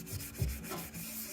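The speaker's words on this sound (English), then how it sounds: "This sands very nicely." Light hand sanding of primer on a Spiderman helmet gives a close, soft, continuous rubbing scratch with slight back-and-forth strokes.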